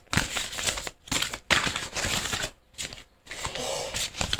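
Oracle cards being shuffled by hand, a close papery riffle in several bursts separated by short pauses, the cards slapping and sliding together in clumps.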